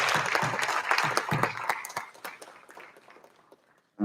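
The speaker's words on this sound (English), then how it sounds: "Babson-Richter, Deb Voss, Keely Richardson, please stand up and please give them a round of applause." Audience applause at a high school PTA council awards night, with scattered claps that start fairly full and then thin out and fade to near silence.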